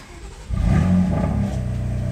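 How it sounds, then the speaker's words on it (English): A BMW M3 F80 or M4 F82 engine with a manual transmission cranks and catches about halfway through, then settles into a loud, steady rumble with a slight rev. "to finish this off, you want to start your car"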